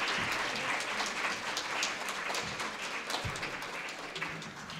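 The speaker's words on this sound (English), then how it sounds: "Give a big round of applause to our speakers." Applause from an audience at an evening League of Women Voters ballot issues forum, a steady, fairly faint wash of clapping with no talk, heard from a distance in a hall.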